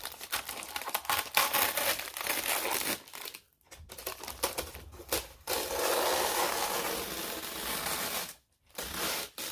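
Packaging for a painted Psylocke statue is peeled open and pulled out by hand. Close crinkling and rustling of wrap and plastic come in irregular bursts, broken by two short near-silent pauses.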